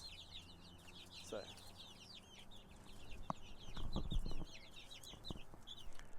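Egg-laying hens cluck and chatter steadily in a close flock in a pasture coop, with a few louder knocks and rustles partway through.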